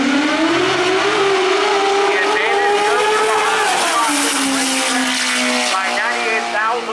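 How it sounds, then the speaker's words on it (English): Drag racing cars doing burnouts at a raceway, a loud high engine scream with rising and falling revs and a shifting tone, heard continuously and close, with a commentator's voice partly under it. "Our next pair already completing their burnouts here on the right-hand side."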